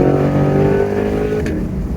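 A Chevrolet Corvette C8 engine revs loudly and close, a throaty rising drone with a small exhaust pop near the end.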